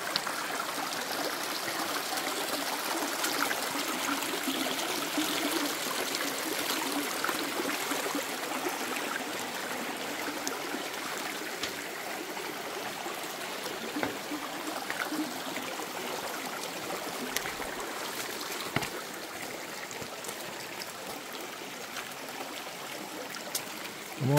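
A river called El Pilón flows steadily over rocks near a small swimming pool, a constant broadband rush and trickle of water heard up close with no voices.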